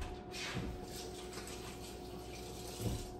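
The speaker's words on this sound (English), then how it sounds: "I have to wash my hands again." Hands being washed under a running kitchen tap, a steady broadband splash of water flowing throughout, with a couple of brief thumps as hands move under the stream.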